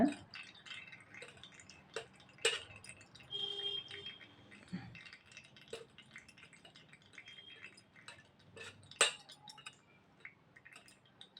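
Sweet lime juice poured a little at a time through a strainer into a steel bowl, soft intermittent dripping and trickling with occasional clinks of utensils and faint speech in the background.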